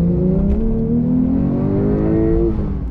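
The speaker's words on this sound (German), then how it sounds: "wir sind jetzt im zweiten Gang und geben mal Gas" A Porsche 911 Sport Classic with 550 PS is accelerating hard in second gear, its engine note rising steadily and loud from inside the car, with no talking.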